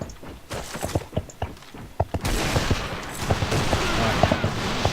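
Rapid pistol fire in the online shooter A.V.A, with many sharp shots in a dense, irregular stream that grows busier and louder midway, mixed with footsteps and game clatter.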